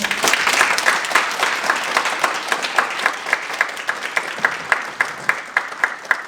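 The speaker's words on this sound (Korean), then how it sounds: "좀 박수 한번 쳐주시겠어요?" An audience at a Korean youth counseling center's year-end report meeting applauds, a loud, dense wash of clapping that gradually thins into a steady rhythmic unison clap toward the end.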